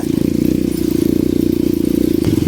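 An enduro motorcycle rides a mountain trail at year end, its engine droning loud and steady with a fast, even pulsing throb close to the mic.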